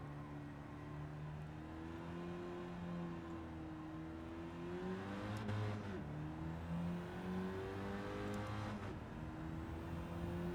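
A stock car engine revs and drones steadily in Gran Turismo 7, its pitch gliding up and down through gear changes at a constant, fairly loud level with no talking.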